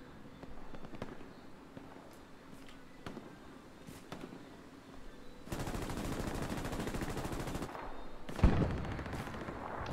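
Gunfire in the World War II shooter game Hell Let Loose: scattered distant shots and pops, then a denser crackling burst, with one sharp, louder crack near the end.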